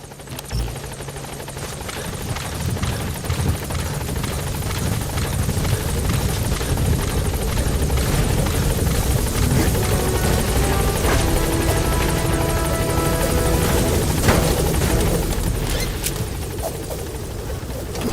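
Support helicopter hovering at a landing zone in Metal Gear Solid V: The Phantom Pain, a loud, close rotor roar with steady thumping that builds and holds throughout, no voices heard.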